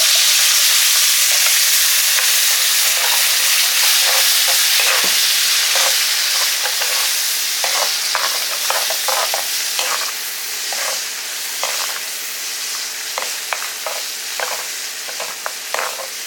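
Ground chutney paste hits hot sesame oil with asafoetida and sizzles steadily, a dense hiss that stays loud throughout, broken by frequent short scraping stirs as the mixture is worked around the pan.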